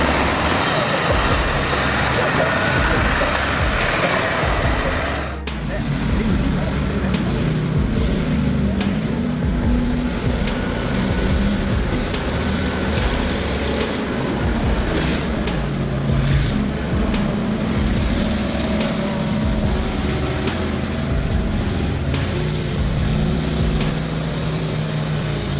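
Heavy monster truck engines roar continuously and loudly on flooded mud terrain, a dense rumbling drone that holds steady throughout with a brief dip early on.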